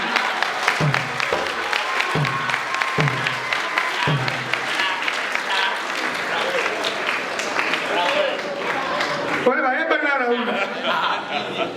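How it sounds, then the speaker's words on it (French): Audience applause at a political commemoration gathering, loud and sustained for most of the stretch, with sharp bursts of clapping near the start and crowd chatter mixed in before a voice speaks at the end. "applaudissez pour lui"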